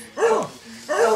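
Two close, yelping dog barks about a second apart, each with a rising and falling whine-like tone.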